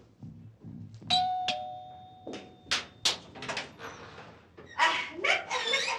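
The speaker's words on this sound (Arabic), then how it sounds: "شوفي الجرس بيضرب" An electric doorbell rings at a home in an Egyptian film scene, a clear sustained chime followed by short bursts of voices and yipping.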